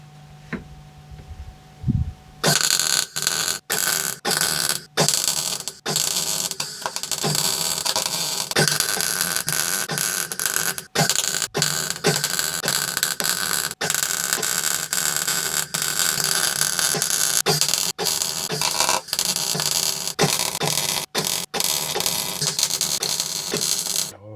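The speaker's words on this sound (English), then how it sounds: "I'm just gonna have to get stuck in and weld this piece in and fill out the gaps." A welder fixes a patch piece onto the body of a C25 CityCamper campervan on a rainy day, making a steady loud crackling buzz broken by short gaps where the arc stops and starts again.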